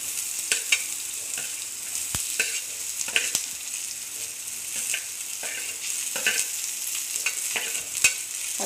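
Onions and green chillies sautéing in hot oil in a pan, with a steady soft sizzle and repeated sharp scrapes and knocks of a stirring spoon, no voices.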